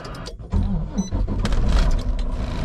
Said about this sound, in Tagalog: Pagagapangin ko lang ang truck